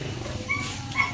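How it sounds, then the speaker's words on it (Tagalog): Dogs make short, close whimpery yips and barks, two quick calls over a steady low background. "Ito yung mga aso, kukunin namin."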